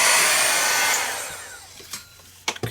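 Heat tool blasting hot air to dry ink on a journal cover, a loud close whooshing blow that gradually fades and switches off, followed by a few light clicks and taps.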